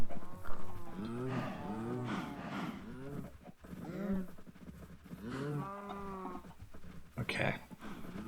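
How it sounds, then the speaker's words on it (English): Cows in a village-building video game moo repeatedly in long, drawn-out calls, several overlapping at moderate loudness with a steady background hum and no talk. "And we might as well feed the cows while we're at it."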